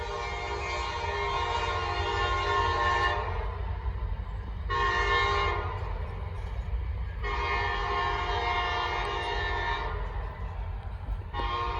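Loud blasts from a K5LA horn on a Norfolk Southern train at Gaffney, South Carolina. There is a long opening blast, a short one, then another long blast, the classic crossing pattern, over a steady rumble of rolling railcars.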